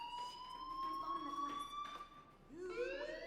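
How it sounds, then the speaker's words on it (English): Fire alarm in the video game Life is Strange rings with a steady electronic tone held for a couple of seconds, faint under talk, followed by rising siren-like sweeps. "Hey, do you hear that fire alarm?"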